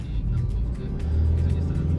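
A learner driver's car engine rumbles steadily at low pitch, swelling slightly louder partway through as gas is added, with no talk over it.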